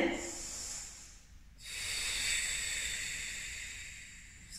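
Slow breathing during a full-body exercise flow: one long hissing breath fades out, then after a short pause another steady airy breath swells and holds, close and soft, with no talk.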